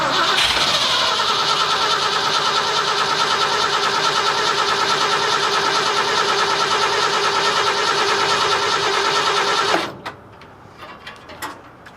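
A car engine fitted with a Summit Racing 600 CFM carburetor, which has a fueling problem, cranks loudly and steadily for about ten seconds. It stops abruptly without catching, leaving a few faint clicks and rattles.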